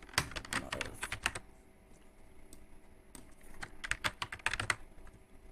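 Quick keystrokes rattle on a computer keyboard while text is typed into MS Word, coming in two close, loud bursts separated by a quiet pause of about two seconds.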